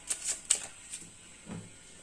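A few quick, light papery snaps and flicks as tarot cards are drawn from a deck during a reading, soft and close, followed by a brief low rustle, with no talking.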